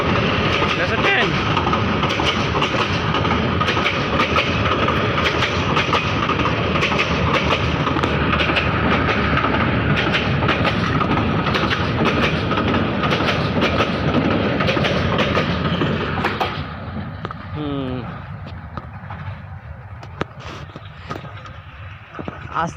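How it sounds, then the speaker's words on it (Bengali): A train rolls past on railway tracks nearby, a long loud rumble with rhythmic clickety-clack that drops away after about sixteen seconds, with people talking over it. "ট্রেন দেখছে।"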